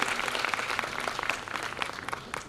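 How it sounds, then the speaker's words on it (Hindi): Parents and guests at a school annual function clap for the teachers, a steady patter of applause heard at moderate distance throughout. "उसके लिए बहुत जोर से तालियां प्लीज।"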